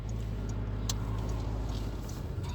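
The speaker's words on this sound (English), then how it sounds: "A car just turned in." A car turning in nearby during a COVID-19 lockdown in Ireland, its engine a steady low rumble with tyre noise, moderately close and continuous, with no talk over it.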